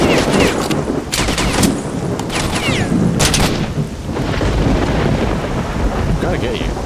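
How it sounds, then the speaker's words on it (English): Gunfire in S.T.A.L.K.E.R. Shadow of Chernobyl, a steady barrage of dense, loud shots and bursts running nearly the whole time, with some quick sharp cracks standing out among the rumbling exchange. "Is somebody else shooting at me?"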